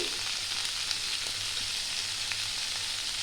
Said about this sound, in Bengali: 1 থেকে 2 মিনিট একটু ডাঁটাটা দিয়ে আমি ভালো করে ভেজে নেব